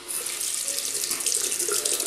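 A tap runs hot water onto a puck of Arko shaving soap, a steady close splashing stream with no pause and no talking.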